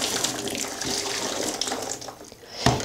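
Hot water is poured from above into a plastic foot bath bowl, making a continuous splashing, trickling sound that swells and fades over a few seconds, with a sharper splash near the end.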